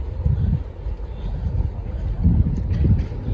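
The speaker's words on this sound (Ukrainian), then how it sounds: "Зараз холодний вітер" Cold wind buffets the microphone in low, uneven gusts, a muffled rumble swelling and easing with no one speaking, on a sunny day after night rain.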